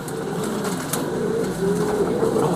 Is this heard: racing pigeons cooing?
yes